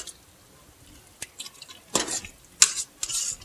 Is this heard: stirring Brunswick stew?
yes